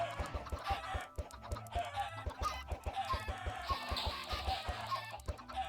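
Chickens in a video game cluck busily over a steady low hum, with repeated short clicks and taps running throughout the scene.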